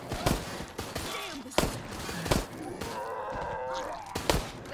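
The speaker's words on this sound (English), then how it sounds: "Shoot that armored zombie." Gunfire aimed at an armored zombie in Resident Evil Resistance, with several loud, sharp shots spaced a second or so apart amid chaotic game noise and a voice speaking in the background.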